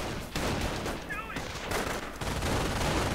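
Sustained video-game MG42 machine gun fire from a World War II skirmish roars as a dense, continuous rattle through a busy battle wash, with a brief voice surfacing midway.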